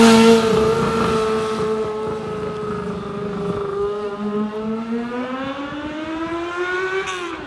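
A car engine revs up, holds, dips and climbs again, a loud tonal drone with rising pitch, nearby and without voices.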